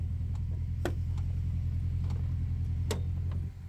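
Honda Accord car being driven, a steady mid-pitched engine hum with a few faint clicks and knocks over it, dropping slightly at the very end.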